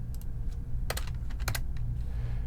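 Computer keyboard keys being typed in short bursts, a few isolated taps followed by two quick clusters of keystrokes, close and clear over a quiet background hum.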